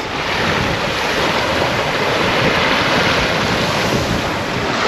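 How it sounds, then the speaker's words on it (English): Wind and waves aboard a sailing yacht in freshening breeze, a loud continuous rush of wind buffeting the microphone over the steady wash of water along the hull, with no voices. "So the wind has picked up a little bit"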